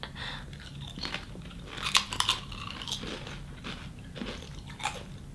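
A ketchup-flavoured crunchy snack is bitten and chewed up close, giving a series of sharp crisp crunches and crackles in uneven bursts over a quiet background, with no talking.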